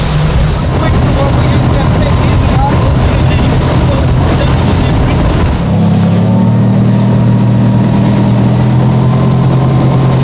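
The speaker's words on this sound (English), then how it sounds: "The noise, you can tell it's a V8, but it's not over the top" Mercury V8 4.6L FourStroke outboard engine driving a boat on open water, a steady loud drone with wind and water rush, dropping to a lower, smoother engine note partway through.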